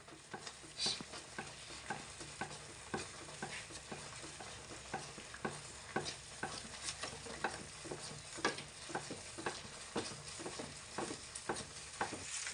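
Jaggery halwa is stirred and cooked in ghee in a kadhai, with a steady, rhythmic series of scraping strokes over a faint continuous sizzle and no voices.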